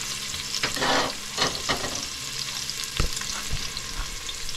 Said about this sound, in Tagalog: Ginisa na natin yung bawang.